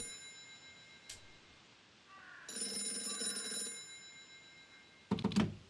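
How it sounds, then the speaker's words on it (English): A telephone rings with one bright electronic trill burst lasting about a second, standing alone in a quiet room, followed by a sharp clatter like the handset being picked up. "How did you know the phone would ring just now?"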